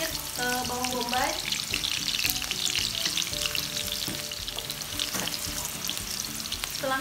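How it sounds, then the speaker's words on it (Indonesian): Onion and ground spice paste sizzles steadily in a hot pan for a fish curry, a continuous loud frying hiss with occasional stirring scrapes, background music tones underneath. "Langsung kita tumis untuk bumbu halusnya"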